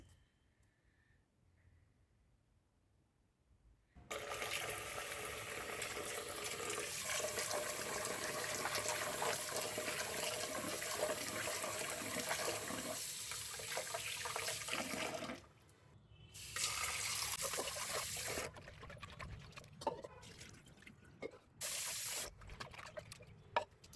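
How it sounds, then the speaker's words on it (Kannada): Split green gram (moong dal) being rinsed with water inside a pressure cooker: a steady, close splashing and sloshing of running water that stops briefly, then resumes with softer swirling and draining. "ಮೊದಲನೇದಾಗಿ ಹೆಸರು ಬೇಳೆನ ಕುಕ್ಕರ್ಗೆ ಹಾಕ್ಕೊಂಡು ತೊಳ್ಕೊಂಬಿಡೋಣ."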